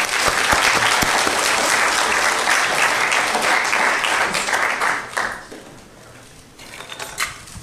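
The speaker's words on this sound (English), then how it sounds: "Round of applause." Audience applause at a university open day materials engineering talk, dense steady clapping that fills the room for about five seconds, then thins out and fades to scattered claps.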